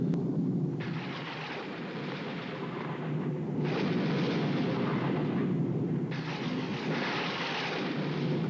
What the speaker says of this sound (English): Okay, enough with the lightning.